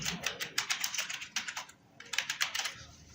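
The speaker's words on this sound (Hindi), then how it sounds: "यहाँ पर मैंने फाइल का नेम लिख दिया है" Rapid keystrokes on a computer keyboard while a file name is entered in InPage desktop publishing software, two close bursts of clicky typing separated by a brief pause.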